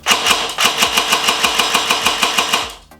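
Rapid, evenly spaced mechanical clacks from an airsoft AK rifle firing semi-auto in quick succession, about a dozen shots, loud and close, with no talking.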